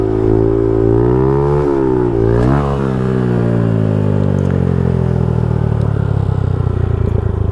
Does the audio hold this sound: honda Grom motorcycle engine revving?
yes